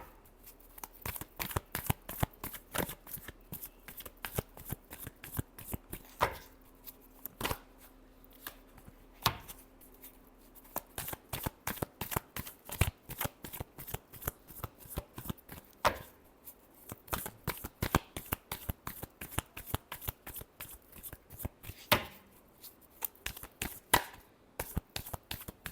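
Tarot cards shuffled by hand, a long run of quick, crisp riffling slaps and flutters in irregular bursts with short pauses, close and fairly quiet.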